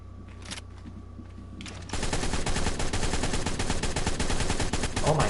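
An assault rifle in ARK Survival Evolved fires a long, loud, unbroken automatic burst that starts suddenly after a quiet hum and keeps up a fast, even rhythm to the end.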